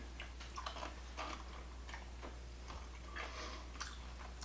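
Crisp crunching bites of corn chips repeat close by in an uneven rhythm over a steady low hum.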